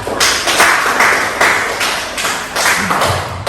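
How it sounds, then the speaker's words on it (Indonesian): A classroom of students applauding a student group, dense steady clapping in several loud swells across the whole stretch, close and lively with no talk over it. "berikan aplaus untuk kelompoknya Mansa"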